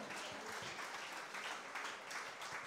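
A church congregation applauding in acclaim of God, a steady, moderately distant clapping that holds throughout with faint voices mixed in.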